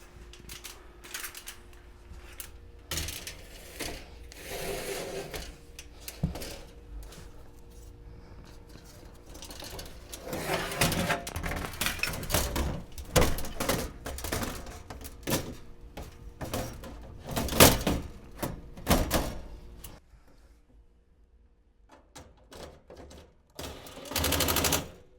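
Screws are driven to fix an outdoor grill into its wall sleeve, a power driver whirring in repeated short bursts with rattling, clattering metal between runs, close and moderately loud, with quieter pauses in the middle and toward the end.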